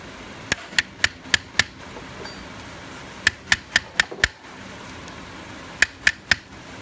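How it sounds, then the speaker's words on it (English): A small hammer taps a chisel while hand chasing a weave design into a metal thumb latch button, making sharp ringing metallic ticks in quick groups of five or six, separated by short pauses. "You'll notice that I'm not usually tapping the chisel and then giving it a hit."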